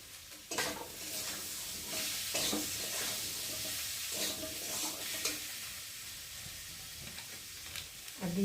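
Potatoes with chopped tomato, turmeric, cumin powder, chili powder and salt frying and being stirred in a pan, a steady sizzle broken by repeated scraping strokes of a spatula.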